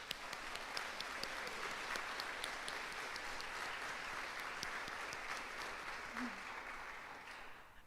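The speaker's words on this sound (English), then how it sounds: "let's give them a warm round of applause" Steady, even applause fills a room during an exhibit opening talk, a dense wash of many hands clapping at moderate distance, holding level for several seconds before tapering slightly at the end.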